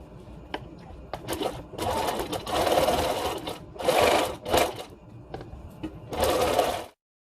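A sewing machine top-stitches a fabric mask in several short runs, each a close, rapid whir separated by brief pauses with small handling clicks.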